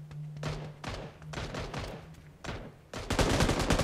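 Automatic gunfire in the mobile battle-royale game New State Mobile comes as several rapid bursts of sharp, closely spaced shots. The loudest, densest volley arrives at the end.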